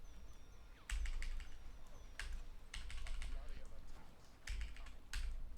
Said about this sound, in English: you just hear the keyboard sounds